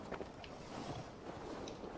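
Steady wind gusts rush and whoosh in Assassin's Creed Valhalla as a storm approaches, a quiet, continuous blowing with no talking.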